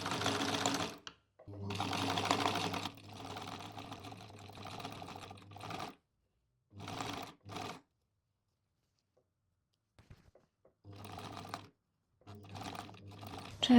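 A sewing machine runs in several bursts, long then short, stitching down the edge of a fabric pouch at a longer stitch length, with brief pauses between runs.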